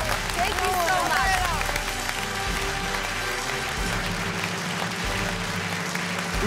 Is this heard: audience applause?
yes